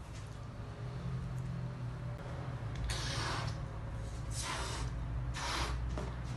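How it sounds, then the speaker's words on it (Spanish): A balloon is inflated for a gas-law experiment with a bottle, heard as several strong, breathy puffs of air blown into it with short pauses between. "Y ahora vamos a inflar el globo."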